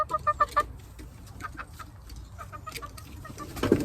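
A big giant rooster on a homestead clucking in short bursts, loud and close at first, then quieter scattered clucks and rustling, ending with a sharper call.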